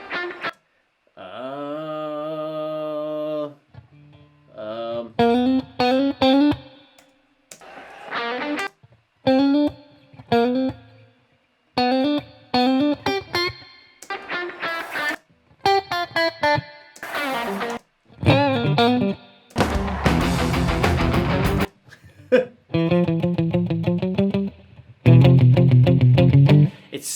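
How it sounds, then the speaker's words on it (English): Electric guitar with distortion plays an inverted power chord in short bursts and stabs separated by brief gaps, with one loud noisy crash partway through, heard alone without talking. "It sounds like an inverted power chord."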